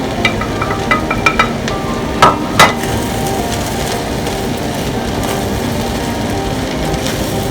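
Egg going into a pan of fried rice with vegetables, giving a steady sizzling fry throughout, with a few sharp clinks of a utensil against the pan early on.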